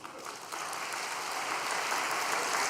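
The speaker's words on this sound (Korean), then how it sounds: "박수 한번 올립시다" Sustained applause fills a church gathering after a call to honour a visiting minister, a dense, even wash of clapping heard at moderate distance with no break.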